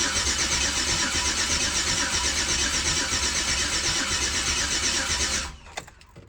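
Turbocharged Chevrolet Silverado engine cranking over on the starter for about five seconds, a loud, steady rapid whirring churn that cuts off abruptly, followed by faint clicks.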